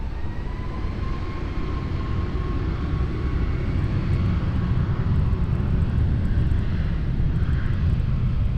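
A Ryanair airliner takes off from runway 20 at Lisbon Airport, its jet engines a loud, continuous broadband roar that stays steady and close throughout, with no voices.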